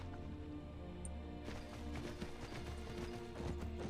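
Horse hooves clip-clop at a steady rhythm as a mount travels in Skyrim, a fantasy video game, carrying on under a low background hum and growing a little busier and louder toward the end.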